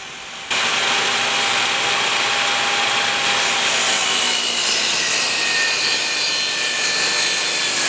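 A power saw cuts a 45-degree angle through a wooden shelving board in a garage, a steady loud whining rasp starting abruptly and holding for several seconds.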